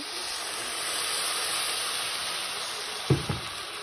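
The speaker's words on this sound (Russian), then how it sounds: "Предварительно обжариваю, прежде чем тушить." Cabbage fries in a pan with a steady, even hiss and sizzle close by, broken near the end by two brief knocks from stirring or a utensil.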